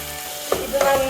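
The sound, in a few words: onion, tomato, chili, garlic and ginger sautéing in pan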